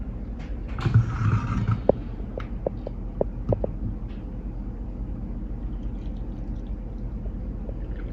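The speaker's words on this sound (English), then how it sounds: "It pours really, really nicely. No drips, no drips at all." Coffee poured from a Mirro-Matic electric percolator into a cup: a short pouring burst near the start, followed by a few light clinks and then a quiet room tone.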